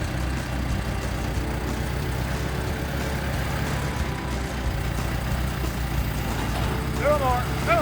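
A 1926 International Model 54 house moving truck engine, just cranked, runs steadily as it warms up, a continuous low rumbling idle throughout, with a brief voice near the end.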